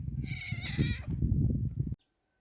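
A ginger cat gives one drawn-out, fairly close meow, with the sound cutting off abruptly near the end.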